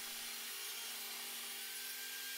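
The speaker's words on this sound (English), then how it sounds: "I use the tenon saw to cut the splines to length" A tenon saw cuts thin wooden splines to length in a woodworking shop, a steady, loud rasping that fills the whole stretch without a clear stroke rhythm.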